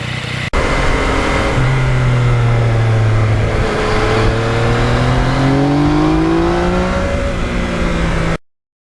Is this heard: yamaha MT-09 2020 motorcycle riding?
yes